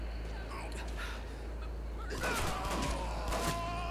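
A few sharp gunshots ring out in the violent shooter video game Hatred, arriving in quick succession partway through over a low background hum.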